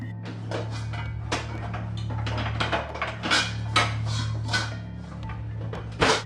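Pots, pans and cutlery clattering and clanking in irregular bursts over a low steady hum, moderately close, with no talking; kitchen sounds from the Five Nights at Freddy's video games.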